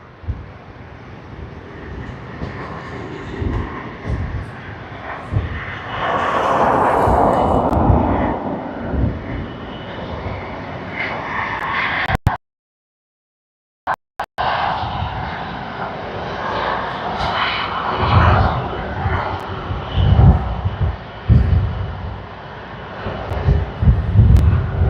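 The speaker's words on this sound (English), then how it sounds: "(787-9) that will be arriving on runway 16L, so it's the far off one, but we should get a good view of it coming into land." A Boeing 787-9 airliner comes in to land on a distant runway at Sydney Airport, its broad jet roar rising and fading with a brief dropout midway through; faint voices are heard in the background.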